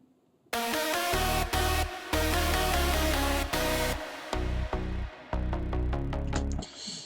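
Layered psytrance synth parts, a buzzy bass under bright leads, kick in abruptly and drive with rhythmic gated chops, then thin out toward the end, loud and alone with no voices.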